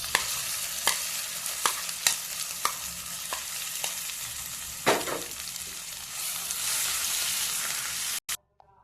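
A spoon scrapes and stirs ivy gourd and sesame chutney into a hot tempering, with sharp knocks against the pan at a steady rhythm over a soft sizzle that swells louder toward the end before stopping abruptly.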